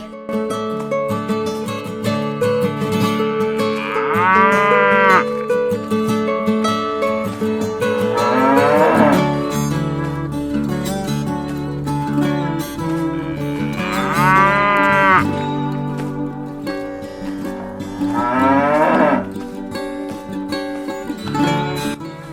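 A cow lowing in long, drawn-out moos, four loud calls spaced a few seconds apart, close and clear over a steady farmyard background.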